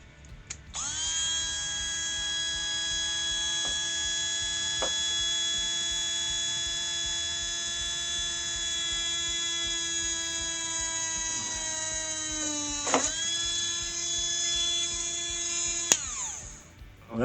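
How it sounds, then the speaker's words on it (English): A Dremel-style rotary tool whines at a steady high pitch as it drills into an ink cartridge, loud and sustained, with its pitch sagging briefly near the end before spinning down; no talking. "we're just going to drill down into the hole"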